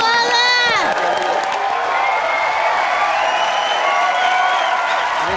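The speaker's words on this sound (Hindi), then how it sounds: "लॉरेन के लिए जोरदार तालियां।" A studio audience at a live comedy show cheers, whoops and applauds for a guest named Lauren, a dense, loud, sustained roar with high shouts standing out near the start.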